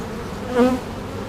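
Honeybee colony buzzing during an open hive inspection, a close, brief swell of droning wingbeats that rises and fades within about a second.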